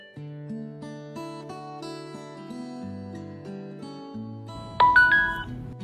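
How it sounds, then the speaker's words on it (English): A ZUMIMALL J7 doorbell camera powering on gives a brief cluster of bright electronic beeps near the end, rising over steady background music. "Wait for the red light to flash slowly after hearing the doorbell beep."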